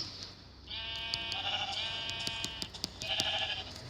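Two drawn-out sheep bleats from Minecraft, clear and nearby, with a few short clicks and taps between them.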